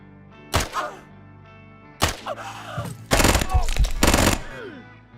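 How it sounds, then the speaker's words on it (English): Bursts of submachine gun fire in the turn-based game Quasimorph, a few short volleys with the loudest sustained burst near the end, heard up close. "Freaking submachine gunners, man."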